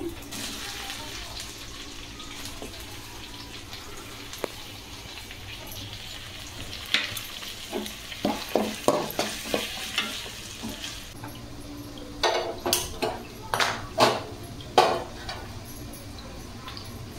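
Ginger garlic paste and tomatoes frying and being stirred in a pan: a steady sizzle runs throughout, with clusters of sharp clatters and scrapes from the stirring in the second half, and no voice.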